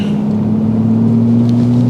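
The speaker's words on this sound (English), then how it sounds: "if I push the button, you hear V12, what it should sound like" A Rolls-Royce Cullinan Series II V12 with exhaust flaps open drones at a steady, loud idle, a deep, smooth, low even hum with no revving.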